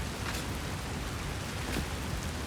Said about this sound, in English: I thought there was rain, but it's just the water here